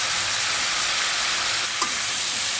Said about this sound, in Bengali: একটু নেড়ে চেড়ে এই তেলের মধ্যে সুন্দর করে একটু ভেজে রান্না করবো